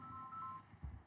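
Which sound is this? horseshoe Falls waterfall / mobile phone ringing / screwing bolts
mobile phone ringing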